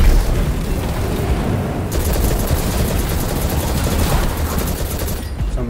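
A rocket launcher fires in Destiny 2, a loud booming blast with rumbling explosions and rapid crackling fire layered densely, continuing steady and close for several seconds before cutting off at the end.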